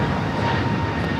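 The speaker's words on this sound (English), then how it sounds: "That flight heading to Charlotte on that A321 in Neo." Airbus A321neo jet at Los Angeles International Airport, a steady loud broadband engine roar that holds throughout with no break, fairly close.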